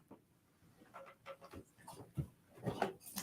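A dog pants and whimpers close by in a string of breathy, uneven bursts, growing louder toward the end with no talking.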